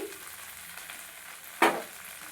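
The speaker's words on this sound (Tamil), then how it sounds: "நல்லா வதக்கி எடுத்துக்கோங்க" Drumstick leaves sautéing with tamarind in a pan give a soft, steady sizzle, and a single sharp burst of frying flares up briefly near the end, with no talk.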